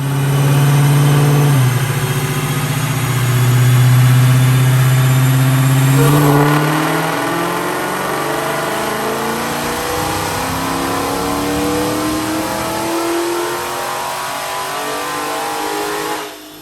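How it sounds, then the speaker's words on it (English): A 2015 Dodge Challenger Hellcat with an automatic transmission, pulley and headers, running on 93 octane, revs on a dyno: a loud engine pull climbing through the rpm range with shifting tones, then easing off at the end. "Check out this dyno pull."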